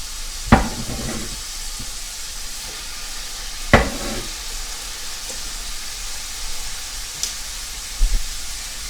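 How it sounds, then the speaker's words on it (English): Peppers sizzle in a hot pan for a turkey lasagna, with a steady hiss broken by a few sharp clanks and knocks of a utensil against the pan. "I'm going to throw these peppers on here right now."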